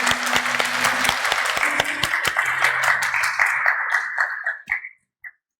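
A church congregation applauds to welcome a missionary couple during Sunday worship, steady dense clapping that swells then tapers off, ending with a few last claps.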